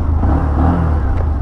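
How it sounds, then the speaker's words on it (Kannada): A 2025 Bajaj Platina 110 Fi motorcycle engine runs with a steady, close, low drone and a faint whir, holding an even level throughout with no voices. "ಇಂಜಿನ್ ಸೌಂಡ್ ಈ ಥರ ಕೇಳಿಸುತ್ತೆ."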